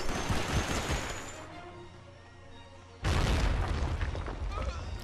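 In the video game Medal of Honor: Rising Sun, on Guadalcanal, a loud grenade blast booms in the jungle, its rumble fading before a second heavy burst of noise hits, with battle din surrounding it.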